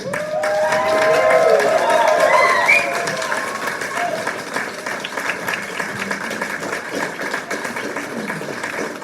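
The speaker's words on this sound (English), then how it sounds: "offer your congratulations to our graduates with a round of applause" An audience applauds at a nursing pinning ceremony for LPN to RN graduates, with sustained clapping and cheering from a large crowd in a hall, fading slightly after the first few seconds. A voice speaks over it early on.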